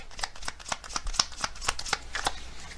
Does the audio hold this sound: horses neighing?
no